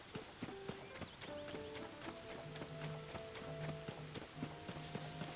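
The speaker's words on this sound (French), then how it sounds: "Ah, y a des chevaux là-bas." Horses in the video game Zelda: Tears of the Kingdom clip-clop in a steady, fairly quick rhythm, soft and somewhat distant, under sustained melodic game music tones.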